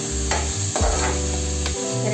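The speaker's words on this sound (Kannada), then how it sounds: "ಸರಿಯಾಗಿ ಮಿಕ್ಸ್ ಮಾಡಿಕೊಳ್ಳಿ." Khichdi mixture of washed masoor dal and tempering stirred in a pan, a steady close scraping and shuffling over a continuous low sizzle, with no talk.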